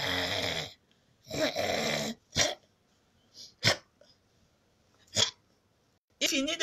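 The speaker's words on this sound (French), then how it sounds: "Après, il se met à ronfler." A man snoring in bed, a series of throaty rasping snores and snorts separated by silent pauses, close and fairly loud, with about six bursts of uneven length.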